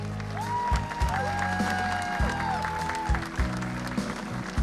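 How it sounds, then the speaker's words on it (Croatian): Applause from a crowd at a closing political campaign convention, sustained over loud music with a pounding bass beat throughout. "Molim vas poseban aplauz za našu Milicu Boljević"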